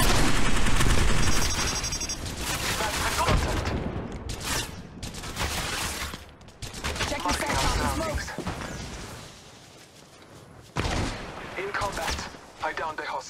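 Rapid bursts of gunfire from Apex Legends, played as Bangalore, crackle in loud, dense volleys across the whole stretch, with sharp impacts and explosive thuds breaking in, then a short lull before more heavy shooting.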